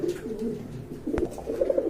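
Red Sirazi pigeons at a sale cooing, soft low coos repeating close by over a couple of seconds, with no talk.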